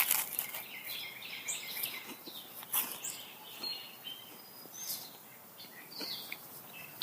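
Morning birdsong outdoors on a sunny backyard morning, scattered faint chirps and tweets at a distance over a quiet ambient background, with occasional light rustling and no talking.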